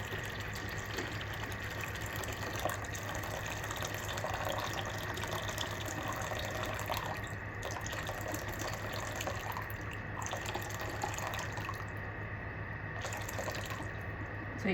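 Hot water running steadily into a measuring container while making no-knead bread, a continuous close splashing pour that lasts throughout without talk.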